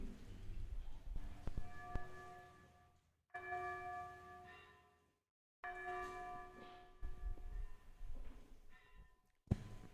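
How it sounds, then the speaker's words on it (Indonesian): A church bell rings repeatedly during a church service in Yogyakarta, with long, resonant tones that overlap and decay, separated by brief silences, heard from a moderate distance. "Lonceng berbunyi."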